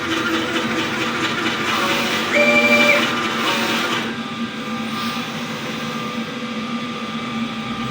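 A DTF printer runs a nozzle test after a head cleaning, giving a steady mechanical whir and hum with a brief louder tonal whine partway through, close and alone.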